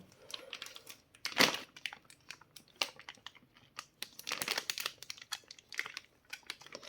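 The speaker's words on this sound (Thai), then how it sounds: "ตัวนี้นะครับก็จะมีเป็นถุงพลาสติกนะครับ หุ้มมานะครับทางโรงงานหุ้มมานะครับ" Plastic factory wrapping bag crinkling around a Marcool 4-16x44 rifle scope, close and crisp, with irregular bursts of rustling and crackling and brief pauses between handling movements.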